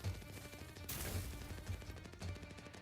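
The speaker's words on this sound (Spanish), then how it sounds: "Se escucha bien pedorro los sonidos de la pistola." Rapid gunshots crack in a video game trailer, several sharp pops in quick succession over a dense musical backdrop, one burst louder than the rest.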